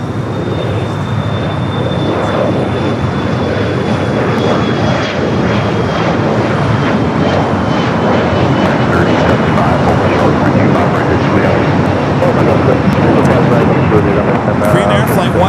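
A jet airliner takes off on LAX runway 25 right, its engines roaring steadily and loudly for the whole stretch, with a thin whine above the rumble and a spotter talking over it.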